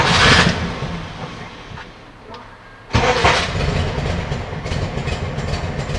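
A classic Volkswagen Beetle engine cranks briefly and catches, then settles into a loud, rough, clattering air-cooled idle that runs steadily close by.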